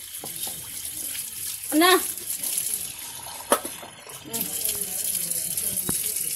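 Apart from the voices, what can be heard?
washing plates and bowls under running tap water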